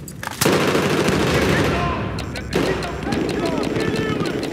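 Bursts of machine gun fire in the video game Battlefield 4 during a Conquest match on Operation Locker, loud rapid rattling shots in two close volleys with a radio voice speaking over them.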